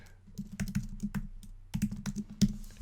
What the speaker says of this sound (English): I'm going to type in the information here